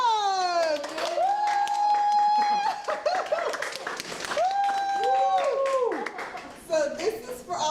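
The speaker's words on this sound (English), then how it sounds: "give your wonderful teacher a round of applause" Applause and clapping for the PTSA Teacher of the Month at a school, a dense burst of hands mixed with whistling sliding tones and voices, loud and continuous throughout.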